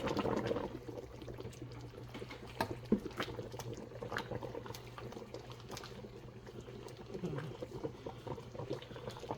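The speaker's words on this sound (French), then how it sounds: "On va encore laisser bouillir comme ça pendant peut-être." A pot of liquid boiling on the stove, low continuous bubbling and gurgling with small pops, fairly faint and close, without speech.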